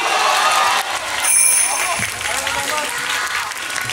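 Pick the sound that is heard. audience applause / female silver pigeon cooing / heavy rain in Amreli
audience applause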